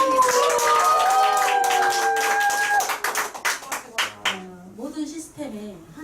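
A seminar audience at a Nu Skin business training event applauds a presenter, a burst of many hands clapping over background music that thins out and gives way to a speaking voice.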